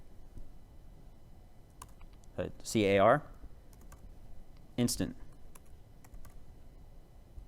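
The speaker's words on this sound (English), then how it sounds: "I'm going to start typing again" Scattered computer keyboard clicks, sparse and fairly faint, sound between and under a man's speech during a live coding demo at a developer conference talk.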